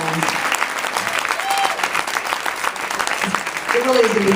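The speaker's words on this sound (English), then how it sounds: "let's have another round of applause for that board" A club audience gives a round of applause for the board, a full, lively clapping that runs throughout, with voices calling out over it near the end.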